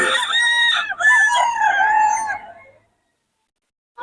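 A young gamecock stag gives one loud, close crow lasting nearly three seconds, its strained, wavering call breaking partway through, followed by silence.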